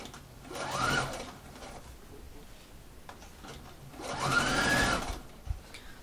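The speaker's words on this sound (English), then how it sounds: "You just continue sewing that all the way around until you reach the other side." Sewing machine stitching a facing onto a curved neckline, running in two separate bursts of about a second each, close and moderately loud over a quiet room.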